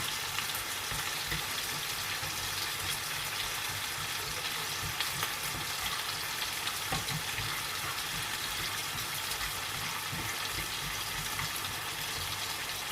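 Onions frying in a pan until lightly browned, for a grilled steak dish: a steady, close sizzle that holds even and unbroken throughout, with no voices.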